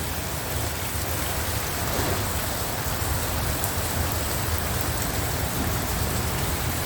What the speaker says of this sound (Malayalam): ശക്തമായ മഴ എന്ന് പറഞ്ഞാൽ അതിശക്തമായ മഴ